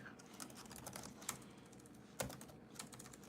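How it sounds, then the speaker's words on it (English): Typing on a computer keyboard during a live stream, a quiet, steady patter of key taps with a couple of slightly harder strikes. "I'm going to type that."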